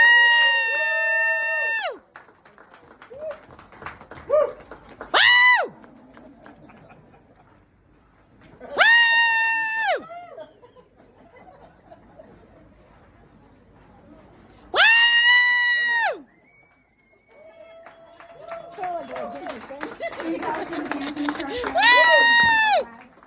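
A crowd at a pinup contest cheers in several loud bursts of whooping and shrieking, separated by quieter stretches with chatter and a voice speaking, ending in a longer swell of noisy applause and yells.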